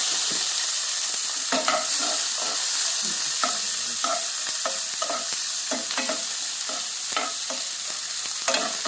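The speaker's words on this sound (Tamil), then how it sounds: "வெங்காயம் போட்டு வதக்கணும் பச்சை மிளகா போட்டு" Onions and green chillies sautéed in a pan for cauliflower and pea stir-fry, with steady sizzling frying under repeated scraping and stirring strokes of a spoon, close and continuous with no talking.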